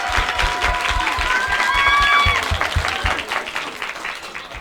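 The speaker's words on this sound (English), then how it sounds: "And can we also give another big round of applause" An audience claps and cheers for young Athena at a music-industry talk, dense applause with a few whistles or high cheers rising above it, loud and sustained before tapering slightly toward the end.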